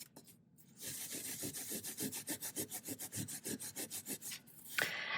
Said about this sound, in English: And then I'll take some steel wool to it just to make sure I get in the crevices.